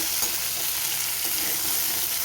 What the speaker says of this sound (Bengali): রসুন বাটাটা দিয়ে কিছুক্ষণ আমি নেড়ে চেড়ে নেব।